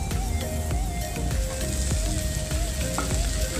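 Okra with chili masala sautés in oil in a pan, giving a continuous crackling sizzle with scattered pops and light tapping, close and steady, no talk.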